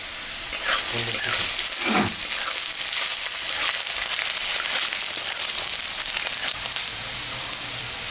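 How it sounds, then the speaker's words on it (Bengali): Potatoes, carrots and peanuts fry in a pan with a dense, steady sizzle throughout, an occasional utensil scrape cutting through near the start. "আলুটাও দিয়ে দিলাম, গাজরটাও দিয়ে দিলাম, বাদামটাও দিয়ে দিলাম। এটা একটু ভাজা ভাজা করতে হবে।"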